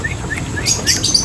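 A young small bird, only just caught, gives a few faint, high chirps spaced through a short stretch, with light background noise and no talk.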